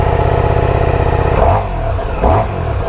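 A motorcycle engine, the same engine as a Multistrada's, idles loudly and close by, then revs up sharply twice in quick bursts.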